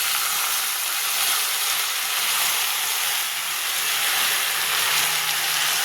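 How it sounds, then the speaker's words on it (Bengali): Ginger, garlic and onion paste frying in a pan, a steady close sizzle and hiss that runs unbroken and evenly loud throughout, with no voices. "এটা ভালো করে কষে দেবো।"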